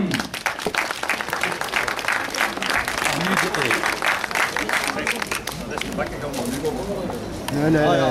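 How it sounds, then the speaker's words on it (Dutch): A crowd applauds loudly and continuously for a winner at an award ceremony, dense clapping throughout, with a voice speaking over it near the end. "Dames en heren, mag ik vragen, applaus voor Gio Chom."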